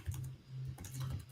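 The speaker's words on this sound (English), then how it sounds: "Yeah, I'm typing." Quick clicking keystrokes on a computer keyboard, a brief burst of a few taps close to the microphone over a low background hum.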